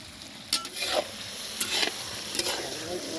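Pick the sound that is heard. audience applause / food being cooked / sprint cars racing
food being cooked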